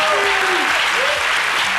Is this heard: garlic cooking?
no